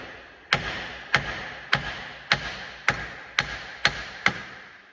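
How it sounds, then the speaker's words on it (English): A hammer strikes a wheel bearing seated in the knuckle of a Lexus RX350 rear suspension. There are eight sharp metallic blows at a steady, even pace, close and loud, with no talking. "All right, so we're just gonna try to hit it with the hammer here."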